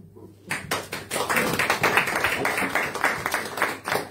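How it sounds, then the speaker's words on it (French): An audience claps after a brief silence, a dense run of many hands clapping that holds fairly steady at moderate loudness, with no speech on top. "Bon, vous êtes applaudis"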